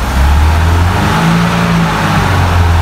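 A Ford Scorpio engine runs loud and close, holding a steady rumbling idle with slight wavering in pitch as the revs are held.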